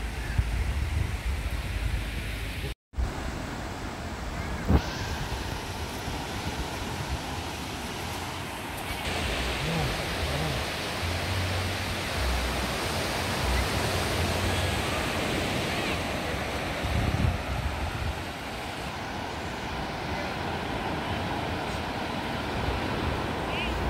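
Sea waves and wind at a beach in Batangas make a steady, broad wash of surf and breeze, continuous and fairly loud throughout with a brief dropout near the start.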